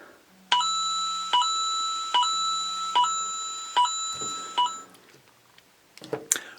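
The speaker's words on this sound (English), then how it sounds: "We have like 5 seconds left, and then you will hear my phone go." A phone timer alarm rings out in a repeating series of six bright electronic chime tones at a steady rhythm, close and clear, then stops, followed by faint handling clatter.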